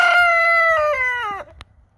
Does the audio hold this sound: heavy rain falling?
no